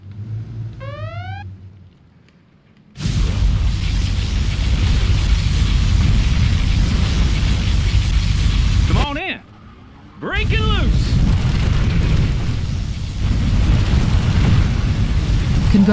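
Particle cannon blast in C&C Generals Zero Hour: a heavy, roaring rumble erupts after a short electronic whine and sustains for several seconds, briefly cuts out beneath sweeping synthetic tones, then surges back loud and continuous.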